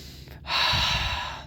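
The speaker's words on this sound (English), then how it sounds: "you can breathe in through your nose and out through your mouth to release tension and emotions" A slow breath drawn in, then a long, audible breathy exhale released through the mouth, close and alone.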